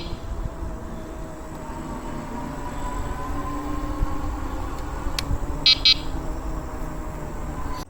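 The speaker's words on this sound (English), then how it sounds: "Horn." Two quick electronic horn beeps from a Wallke H7 Ultra AWD e-bike, a 37 mph electric bike, sound close together near the end, clear over steady riding and wind rumble.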